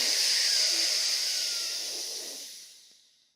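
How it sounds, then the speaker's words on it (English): A single long, deep inhale during a guided breathwork exercise, a steady airy hiss up close that swells at once and slowly fades away over a few seconds, with no voice over it. "Deep inhale."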